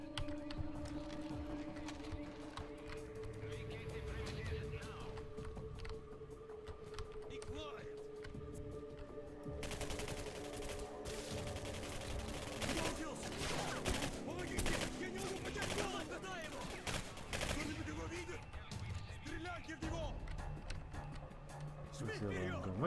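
Gunfire in the video game Singularity, with bursts of rapid shots in the middle and later part over game sounds and someone talking throughout.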